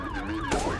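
Police siren inside a SpongeBob horror video game, a loud wailing tone sweeping up and down continuously, with a second siren layer cutting in near the end.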